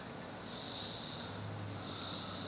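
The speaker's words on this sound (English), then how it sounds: "Love hearing the crickets." Crickets chirping at dusk in North Carolina, a steady high-pitched insect drone that swells and fades gently, continuous and moderately faint with no voices.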